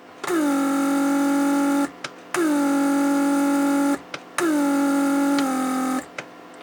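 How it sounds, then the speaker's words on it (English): A Mercedes vacuum pump runs to release the rear headrests, giving three loud, steady whirring hums of about one and a half seconds each, separated by short pauses and clicks. "That was vacuum to release rear headrest, so that you would just drop down."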